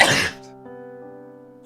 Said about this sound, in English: I might sneeze.